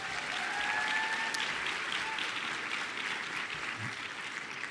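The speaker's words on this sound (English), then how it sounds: "let's give her a big round of applause" A crowd at a summer program closing ceremony applauds a county councilmember, steady dense clapping filling the room at moderate distance for the whole stretch, with a couple of faint whistles or cheers near the start.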